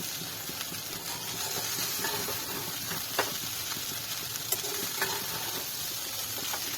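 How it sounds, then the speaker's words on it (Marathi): Poha, flattened rice, stir-fried in a pan for Maharashtrian kanda pohe, an even close sizzle and hiss with a few light spatula clinks over it, no talk. "दोन मिनिटं पोहे चांगले परतवून घ्यायचे।"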